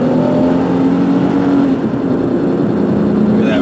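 A 2004 Chevy Venture van accelerating hard on the road, a loud, steady engine drone rising in pitch as it shifts through the gears, heard from inside the cabin with no talking.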